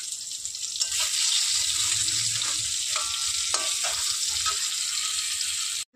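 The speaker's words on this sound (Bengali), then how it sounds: "পটল ভাজা হচ্ছে" Pointed gourd fries in a pan with a loud, steady sizzle close by, a constant bright hiss with a few faint clinks, ending abruptly.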